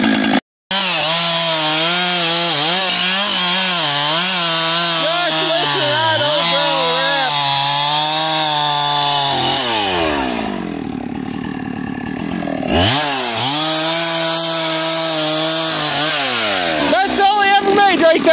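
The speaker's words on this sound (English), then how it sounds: "Husqvarna 372 XP, it's the best all I ever made." Husqvarna 372 XP chainsaw cutting logs during a timber harvest, a loud close engine snarl whose pitch rises and falls as the saw works, easing briefly around eleven seconds before revving again, with no talking.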